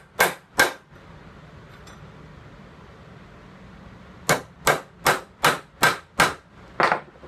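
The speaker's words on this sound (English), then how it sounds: "So just figure out where you want the holes to be and then center punch them." Sharp metallic hammer strikes on a center punch marking pin holes in a knife blank: two quick taps, a pause, then a run of seven evenly spaced loud clinks, close and alone.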